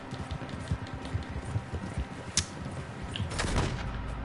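Several gunshots in Red Dead Redemption 2, sharp cracks scattered at irregular intervals over a busy background, one loud close report standing out, then a heavier boom and rumble near the end; no voices.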